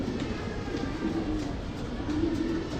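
Racing pigeons cooing in a loft, low murmuring coos forming a steady soft bed throughout, with no speech.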